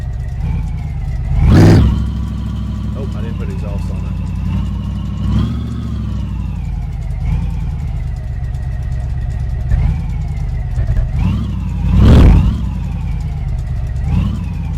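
A 1975 Pontiac Firebird engine with no exhaust fitted, running loud and raw with a steady open idle, punctuated by sharp revving bursts, one early and a bigger one near the end.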